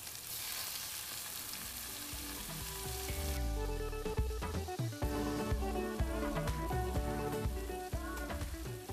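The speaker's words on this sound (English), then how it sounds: "So the shrimps are going in one at a time." Shrimps laid one at a time into a hot pan with onions sear with a steady close sizzle that grows denser partway through, sharp crackles and pops scattered over a bright hiss, no talking.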